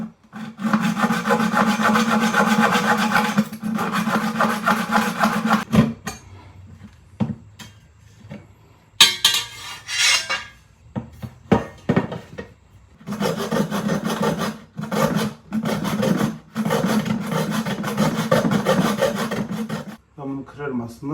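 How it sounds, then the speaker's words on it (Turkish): Steady back-and-forth rasping of a hacksaw cutting metal, running in long bursts with short pauses and a few clanks between strokes. "Bunu şimdi demir testeresiyle keseceğim."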